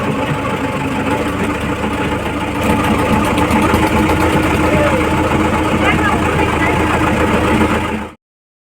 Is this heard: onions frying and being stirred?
no